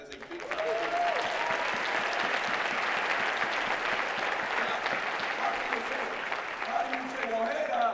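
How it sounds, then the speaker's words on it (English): A crowd breaks into sustained applause at a motivational talk, with steady clapping that swells quickly and stays even, plus faint voices underneath. "you can give an applause to that."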